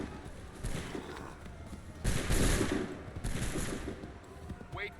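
Musket volleys in Assassin's Creed 3, several sharp blasts fired in bursts with a heavy crackling report, the loudest volley midway, over a low battle ambience.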